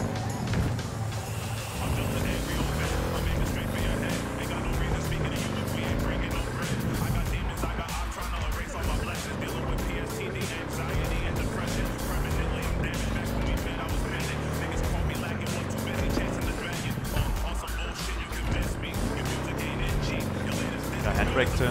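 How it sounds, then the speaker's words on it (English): A motorbike is ridden through the city in Cyberpunk 2077, its engine droning and revving up and down continuously with swooping pitch changes, mixed with game ambience and a voice speaking over it. "I drive my bike."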